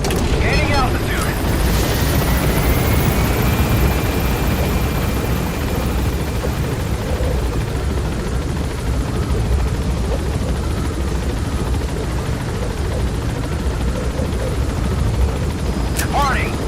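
A helicopter gaining altitude in the video game Metal Gear Solid V: The Phantom Pain gives off a loud, continuous rotor and engine roar that holds steady throughout.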